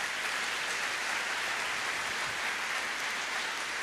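A church congregation applauds together, a dense, steady wash of clapping that holds evenly throughout with no voices over it.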